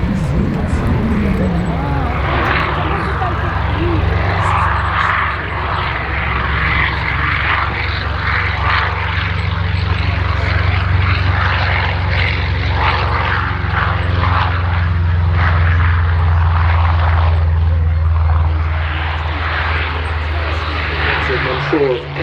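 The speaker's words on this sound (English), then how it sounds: "we're going to be seeing some Griffin engine Spitfires as well" Griffon-engined Spitfire warbird flying at the Sywell airshow, its propeller engine droning loud and steady throughout, with an announcer talking over it.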